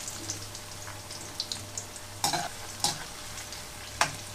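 Okra pieces drop into hot oil a few at a time and fry with a soft, steady sizzle, broken by a few sharper crackling bursts and light scraping knocks close by; no one speaks.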